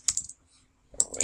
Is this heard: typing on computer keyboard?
yes